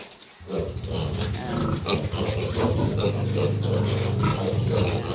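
Recently weaned piglets feeding on grower feed crowd together with continuous loud grunting and squealing, close and steady, while a person speaks briefly over the noise.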